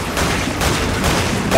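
Rapid bursts of gunfire crackle densely throughout a boss fight in Resident Evil 5, loud and continuous, like automatic weapons firing.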